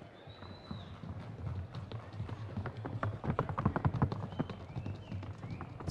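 Hooves of Colombian Paso Fino horses clip-clop in a rapid, steady rhythm at a grand championship equine exhibition, fairly close, with faint background voices.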